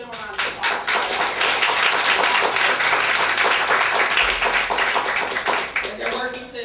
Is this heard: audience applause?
yes